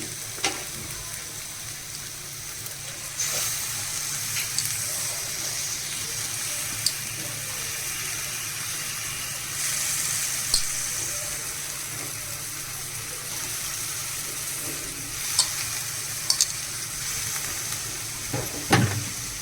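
Small wet prawns fry with soft tomato and spices in a pan for a Malvani masala, giving a steady close sizzle with occasional louder crackles and stirring clinks.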